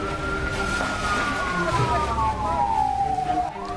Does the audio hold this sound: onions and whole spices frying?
no